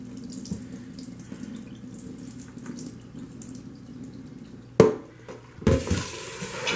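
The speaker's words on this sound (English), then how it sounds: "So I'm going to rinse this water out, because they say a lot of gases get released in this water." Tap water runs steadily into a kitchen sink as soaked black-eyed peas are rinsed, a continuous close splash ending in a louder burst of pouring and sloshing.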